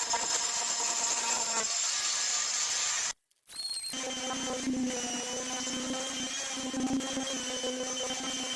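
Power sander whines steadily against the fiberglass edge of a foam pontoon bench seat, cutting out briefly mid-run before restarting with a lower, grittier drone.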